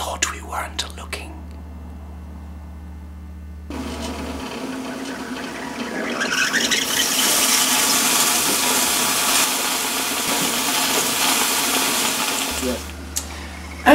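Electric kettle boiling water for tea, a rising rushing roar that swells into a loud steady bubbling hiss for several seconds before cutting off, with brief voices before and after.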